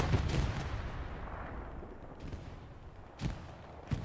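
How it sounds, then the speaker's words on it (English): Rocket explosions during a competitive Hell Let Loose match: a heavy rumbling blast at the start that fades out, then two sharper booms near the end, with no speech. "I have no idea where these rockets are coming from"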